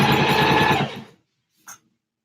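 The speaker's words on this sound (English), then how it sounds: "I don't know much about sewing machines, but I'm like, it doesn't sound right." A sewing machine stitching ribbon trim for a tutu hums in a fast, steady buzzing run for about a second and then stops, followed by a single faint click.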